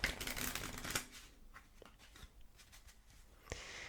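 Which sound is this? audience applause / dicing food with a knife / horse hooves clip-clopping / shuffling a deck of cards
shuffling a deck of cards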